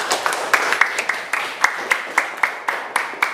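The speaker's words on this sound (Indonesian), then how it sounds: "Ya, tepuk tangan." A classroom group claps during a scored quiz game, uneven bursts of hand claps with distinct sharp slaps repeating irregularly, close and fairly loud with some voices mixed in.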